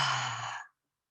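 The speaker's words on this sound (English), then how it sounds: "Take a nice deep breath in." A single deep breath, smooth and close, swelling steadily for about two thirds of a second before cutting off into silence, during a guided breathing exercise.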